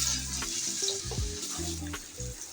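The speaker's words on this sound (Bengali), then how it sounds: "এই তো মাছটা দিয়ে দিচ্ছি।" Spiced fish frying in oil in a pan gives a close, continuous sizzle with a few brief clinks and a tonal hum beneath it.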